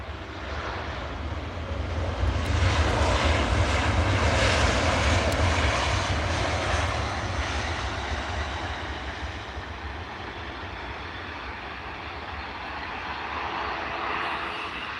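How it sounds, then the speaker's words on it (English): Loud ATR turboprop airliner from Dublin droning steadily at Edinburgh Airport, a broad engine roar swelling in the first half and easing off slightly, heard close and alone without any talk. "Adding this little noisy ATR from Dublin"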